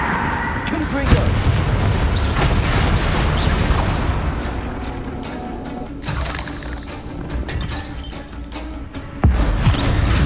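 Repeated booming Confringo fire-spell blasts in Hogwarts Legacy, loud and broadband over busy game combat noise, with a sharp burst near the end and a voice speaking over the action.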